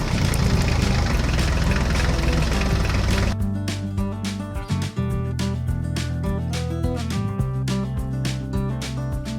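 A tractor engine runs steadily in an animated farm scene, a loud continuous low rumble that shifts to a lighter idling chug partway through, with no talking.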